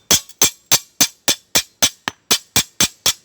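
A dozen sharp metallic hammer blows on a bent lawn mower blade, struck at a steady, even pace, each ringing briefly before the next; loud and close, with no voices.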